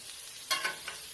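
A few onions tossed onto a hot griddle for smash burgers give a soft steady sizzle, with a couple of quick scraping clicks near the middle, faint and brief, no talking.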